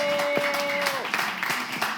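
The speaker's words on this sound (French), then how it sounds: "Est-ce qu'on peut applaudir pour nos tout jeunes enfants, s'il vous plaît?" An audience applauds young children at a Christmas Eve show, with scattered, moderately loud clapping under a voice talking over the house sound system.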